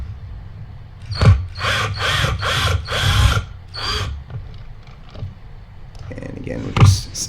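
Cordless drill backing a screw out of the air filter liner on a Tesla Model Y, several short whirring bursts in quick succession, close and fairly loud, with a brief gap then another burst at the end.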